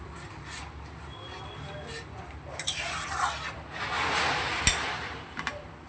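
A spoon stirs paneer into a simmering curry gravy, producing soft, uneven scraping and rubbing in short bursts against a faint background, fairly quiet and close.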